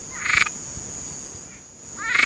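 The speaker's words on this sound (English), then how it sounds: "I had a choice of 3 different calls for this frog." A frog call plays back as two loud bursts of rapid, rasping croaks, one at the start and another at the end, separated by a quieter gap.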